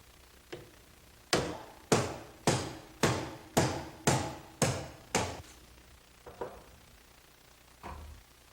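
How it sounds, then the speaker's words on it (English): A punch struck with a hammer to drive a roll pin out of a Ford manual 5-speed transaxle shift lever shaft: a steady run of eight sharp, evenly spaced metallic blows, followed by two fainter, scattered taps. "use a punch to drive the roll pin from the shift lever shaft."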